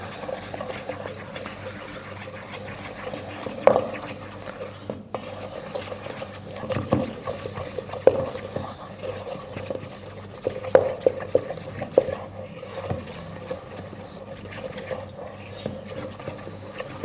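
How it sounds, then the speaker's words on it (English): Eggs and self-raising flour for chocolate praline brownies are worked together in a bowl with a wooden spoon, giving soft, quiet scraping and stirring with occasional light knocks against the bowl, steady throughout and with no voices. "we're just going to mix that through with a wooden spoon"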